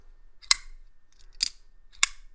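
A folding knife blade flicked open and locked, three sharp, crisp metallic clicks spaced about a second apart, close and clear against near silence.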